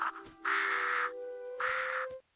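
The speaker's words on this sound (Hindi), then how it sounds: "भी आसमान में भारी काव काव सुनाई दी।" Two loud bursts of cartoon crow cawing fill the sky, each harsh caw sustained for about half a second with a steady tonal drone running beneath, no talk over it.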